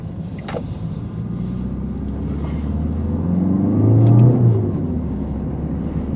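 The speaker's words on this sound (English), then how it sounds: "Just like to start the vehicle, Tony." A car starts in a car park and pulls away, a low engine rumble rising into a steady revving build around the middle before settling, heard from inside the cabin with no talk.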